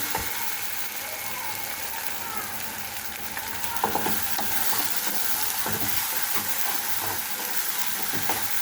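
Ginger garlic paste fries in soybean oil in a pan, giving a steady close sizzle, with occasional stirring scrapes and clicks from a utensil against the pan.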